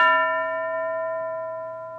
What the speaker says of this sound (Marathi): घंटा वाजली की उभं राहायचंय